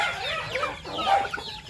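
Chickens on a chicken farm clucking steadily, several birds close by, with overlapping calls and a rooster-like crow mixed in, no speech.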